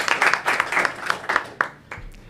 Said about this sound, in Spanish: Un aplauso para ti, por favor.